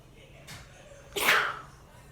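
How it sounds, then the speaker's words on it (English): A single short, breathy sneeze, fairly quiet and close, after a faint intake of breath. "I sneezed."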